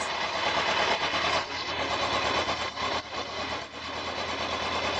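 A cold motorcycle engine idling steadily at about 1000 rpm with a low, rapid chugging rhythm, close and constant throughout.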